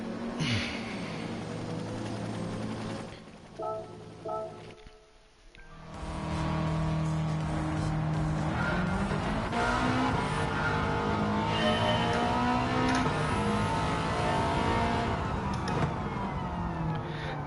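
A race car engine in Gran Turismo 7, revving hard and climbing in pitch, dropping briefly near the five-second mark, then holding a loud, sustained high-rev roar.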